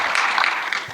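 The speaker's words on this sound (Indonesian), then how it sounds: "Tepuk tangan yang meriah" Applause from a gala dinner audience at a conference centre, a dense continuous patter of many hands clapping, loud and steady for the whole moment with no voices standing out.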